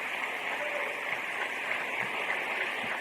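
A congregation at a mosque lecture claps in a steady, dense wash of applause, distant and muffled by old recording hiss, continuous with no talk over it.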